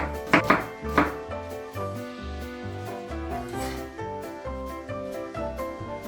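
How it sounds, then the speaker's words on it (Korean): A knife chops green onions finely on a board, a few crisp chops standing out near the start before fading under steady background music. "그 다음 파를 쫑쫑 썰어주고"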